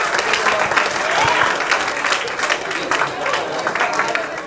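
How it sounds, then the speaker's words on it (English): A festival crowd gives a big round of applause at the MCASA Cultured Festival, with loud, dense clapping and a few faint voices mixed in, steady for the whole stretch. "Let's just give a big round of applause for the whole event today."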